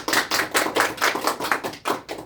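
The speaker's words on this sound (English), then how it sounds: "Please give her a round of applause as she's leaving our table." Brief round of applause at a mafia game table for a departing player, a handful of people clapping in quick uneven bursts for about two seconds, close and fairly loud.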